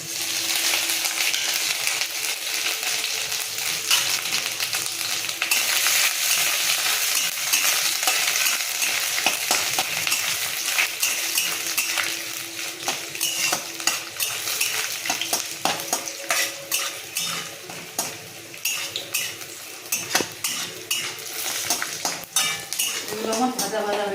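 Grated coconut stirred into taro leaves, shrimp and peanuts frying in a pan for a Bengali home-style dish: a loud, continuous sizzle with close, repeated scraping and clinking of a metal spatula against the pan.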